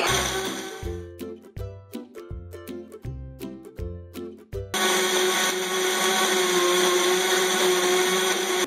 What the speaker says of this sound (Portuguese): ela começa a bater as coisas no liquidificador